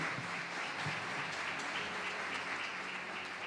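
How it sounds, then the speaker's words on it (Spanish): A church congregation claps steadily during a Spanish-language service, broad continuous applause at moderate level, somewhat distant and roomy. "Denle un aplauso al Señor."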